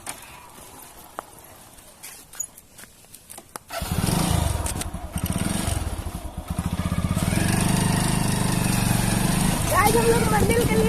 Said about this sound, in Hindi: अब मैं ड्राइव कर रहा हूँ बाइक